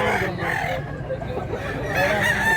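An old rooster crows and clucks close by in broken, rising calls that grow stronger toward the end, over a soft background murmur of voices.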